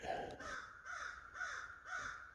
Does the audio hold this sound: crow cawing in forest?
yes